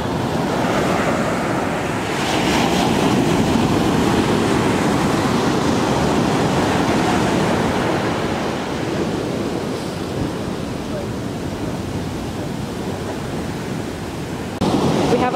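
Ocean surf rolls steadily onto a beach on an overcast day, a continuous loud wash of breaking waves mixed with wind buffeting the microphone, with no voices.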